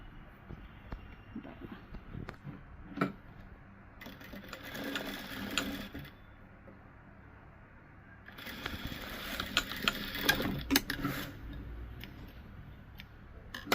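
A sewing machine stitching lining fabric runs in two bursts of rapid mechanical chatter, close and fairly loud, separated by quieter handling clicks and pauses.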